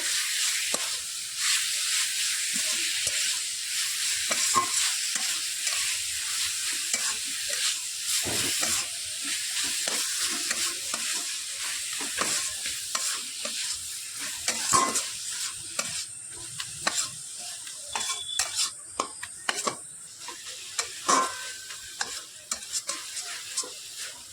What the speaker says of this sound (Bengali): নারকেল আর গুড়টা এবার আমি দিয়ে দিচ্ছি, দিয়ে খুব ভালো করে পুরটা তৈরি করে নেব। নাড়াচাড়া করে আমি পুরটাকে রেডি করে নেব।